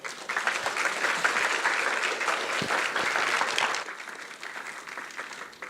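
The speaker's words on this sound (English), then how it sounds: "Can we give her one more round of applause, everyone?" Audience at a church ceremony claps in sustained, loud applause filling the room, then tapering slightly softer toward the end.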